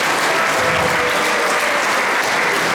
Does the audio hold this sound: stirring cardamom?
no